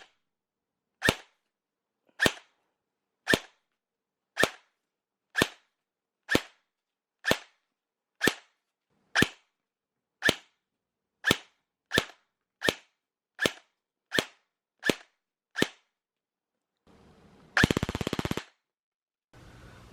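An airsoft Colt M4 SBR by Cybergun, run on an 11.1 battery, fires 0.2 g BBs over a chronograph: about seventeen sharp, evenly spaced single shots, close and loud, then a brief rough full-auto burst near the end.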